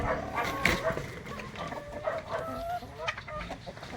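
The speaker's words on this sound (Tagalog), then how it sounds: "Yung rooster natin" A young cross DeKalb Brown rooster and hens clucking close by in a backyard, steady overlapping clucks and short calls with a dog barking a few times in the mix.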